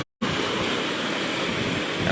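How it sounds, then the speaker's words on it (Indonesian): High sea waves surge against the fishing dock at PPI Beba, a loud, continuous broadband roar of surf and wind-blown water without distinct breaks. "seperti yang Anda lihat saat ini gulungan ombak cukup tinggi"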